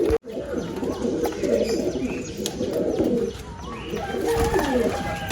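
Haifa pigeons coo inside a loft, several overlapping soft rolling coos and a few chirps running almost continuously at close range, with a sharp knock at the very start.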